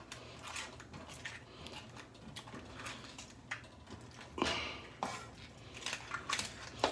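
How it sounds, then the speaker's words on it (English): A spoon stirs a simmering pot of shrimp, sausage and crab etouffee, with soft scrapes and light clinks against the pot sides, fairly quiet and irregular with a few sharper knocks. "Just stirring it up."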